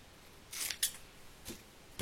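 Scissors snip a ribbon while a handmade French-themed card is being made, giving two quick close crisp cuts followed by two fainter snips in a quiet room.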